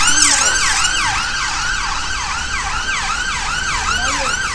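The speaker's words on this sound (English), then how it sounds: "Pause for the siren." Loud wailing siren of a passing emergency vehicle on a busy street in Cleveleys, rising and falling in a rapid repeating cycle over steady traffic noise.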